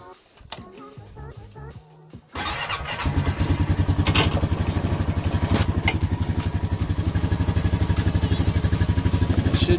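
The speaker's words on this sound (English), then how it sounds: "we're gonna put the plastics back on and crank her up and let her run a little bit" A 2021 Honda Rancher 420 ATV cranks over and starts after a few seconds of faint clatter, then settles into a steady, close, rhythmic idle that runs loud and even to the end.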